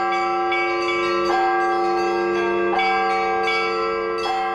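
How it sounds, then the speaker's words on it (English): Russian Orthodox church bells ring in sustained, overlapping metallic tones, with a heavier bell struck at regular intervals about every second and a half, loud and reverberant with no talk. "Russian bells aren't easy on the ear"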